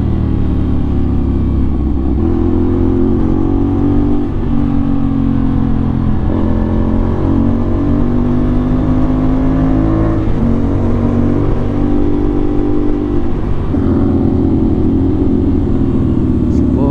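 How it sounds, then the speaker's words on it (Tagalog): Heavy traffic streams along the Marilaque highway with cars and motorbikes passing back to back. Engines drone and rise steadily, loud and close, with no breaks, and a voice can be heard under the noise. "Daming sasakyan."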